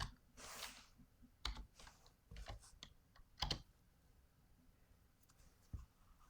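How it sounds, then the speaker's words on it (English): Quiet keystrokes on a computer keyboard come in uneven bursts and single taps, close and soft, with no voices. "So we can type this out."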